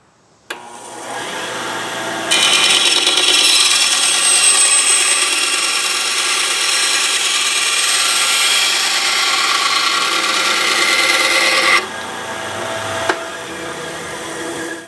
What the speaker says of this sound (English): move this rip fence over, and I've got to trim off a little bit of one of these tornado tubes